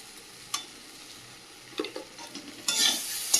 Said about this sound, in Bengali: ভালোভাবে কষিয়ে নেবো আলুটা